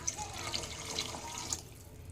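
Water is poured into a pot of soaked rice for vegetable rice, a brief, soft splashing trickle heard close by.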